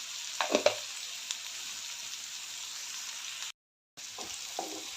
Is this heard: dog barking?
no